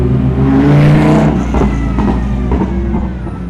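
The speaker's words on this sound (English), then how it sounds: "And that's one of the Lamborghini Huracan GT2s." Lamborghini Huracan GT2 race car at a Misano circuit roaring loudly nearby as it passes, the engine note fading and shifting as it moves away.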